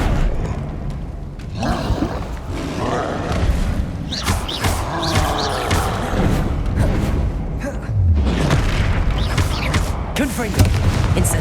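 An Incendio fire spell is cast repeatedly in the Hogwarts Legacy video game amid combat, with booming bursts and thuds in a dense, loud mix. Voices come and go throughout.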